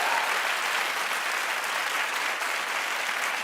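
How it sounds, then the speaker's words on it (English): A television studio audience claps in a dense, even burst that holds steady for a few seconds, loud and close, with no voices over it. "Clap if you think that he was supposed to be"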